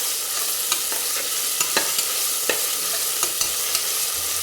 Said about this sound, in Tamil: இந்த இஞ்சி பூண்டு பேஸ்ட்டோடைய பச்சை ஸ்மெல் போகிற அளவுக்கு நல்லா கிளறி விட்டுருங்க.